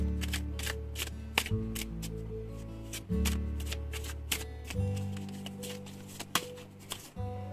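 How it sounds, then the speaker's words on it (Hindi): Tarot cards are shuffled and drawn for a reading, with quick riffling flicks and crisp card snaps in repeated bursts over soft background music. "टैरो में से 3 कार्ड लेंगे और ओरेकल में से 5 कार्ड।"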